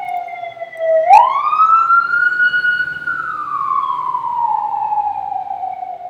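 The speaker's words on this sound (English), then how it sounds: "There was siren" A loud emergency siren wails close by in a city, its pitch sweeping sharply upward, holding, then slowly gliding down in one long cycle.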